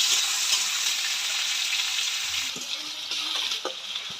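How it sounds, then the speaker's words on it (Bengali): Close, continuous sizzle of chopped onion frying in oil with cardamom, cinnamon and bay leaf, with a few spatula scrapes and stirring knocks in the latter half. "পেঁয়াজটা লাল লাল করে ভেজে নেব।"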